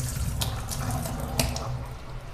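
Water running from a kitchen sink tap in a house, a steady close splashing stream with a few brighter spatters, with no talking.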